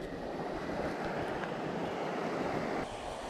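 A heavy stream pours steadily into a small, deep fern-edged pond along a forest hiking trail, a loud, dense, unbroken rush of water that drops slightly in level near the end.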